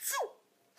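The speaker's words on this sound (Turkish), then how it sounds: "Kızlar hapşırınca." A girl sneezes once, a sharp burst that trails off quickly, followed by a short stretch of quiet.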